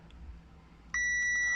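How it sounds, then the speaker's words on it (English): Car warning chime for a defective oil level sensor: a single loud, steady electronic beep that starts abruptly and holds without a break to the end, over faint low engine rumble. "So it will beep 1 for being defective and beep 3 times for the oil level that is low"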